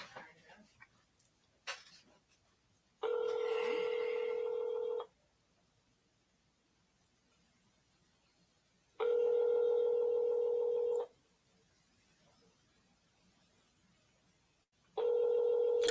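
Telephone ringback while calling back a jail, with a few faint clicks at first and then long, steady two-second rings spaced by silent pauses, repeating three times, clear and near.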